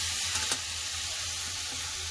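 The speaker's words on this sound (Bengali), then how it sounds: "আলু, কুমড়ো, ঝিঙা ভালো করে আমি কষে নিয়েছি, এটা ভাজা ভাজা হয়ে গেছে" Potato, pumpkin and ridge gourd sizzling in a pan as they fry, a steady soft hiss with a brief clatter near the start, no voices.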